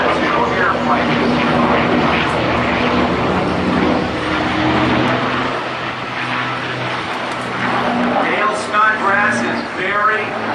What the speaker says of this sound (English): They move as one, though they are two airplanes.